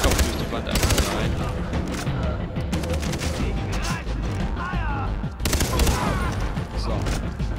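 Heavy gunfire from a big gun in the video game Far Cry 3, a loud, continuous barrage of rapid shots and blasts throughout, with a few brief breaks.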